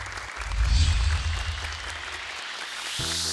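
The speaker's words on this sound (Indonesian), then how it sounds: "Boleh tepuk tangan sekali lagi lebih meriah untuk ketiga peserta kita." An audience claps for three quiz contestants at an Islamic children's Quran quiz show, a dense burst of applause that swells then thins out before a voice begins.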